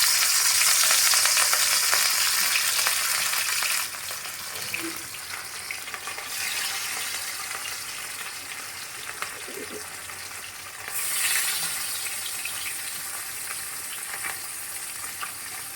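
Fish frying in hot oil for a mustard fish curry, a loud, steady, close sizzle running throughout with brief shifts in intensity as the pieces settle in the pan.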